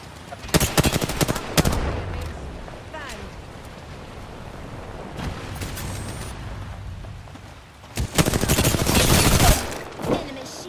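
Bursts of rapid automatic gunfire in the battle royale game Apex Legends, loud clustered volleys near the start and again near the end, with quieter ambient noise and scattered shots between.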